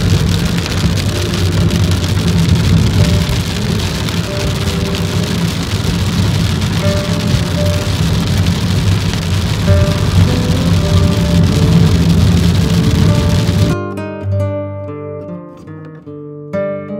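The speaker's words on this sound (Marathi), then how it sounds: "पाऊस बघा भयंकर पाऊस पडतोय तिकडं" Heavy monsoon rain pours steadily on the way to the Kaas Plateau, a loud continuous roar with a dense wash of drops on surfaces, cutting out near the end as tonal music takes over.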